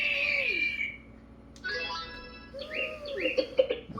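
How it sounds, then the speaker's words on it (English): A small songbird call played by an electronic animal sound toy, a run of bright, rapid chirps and tweets that grows busier toward the end, heard up close with no one talking. "That's a little birdie."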